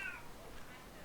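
A cat gives a brief meow right at the start, then only low, muffled background noise remains.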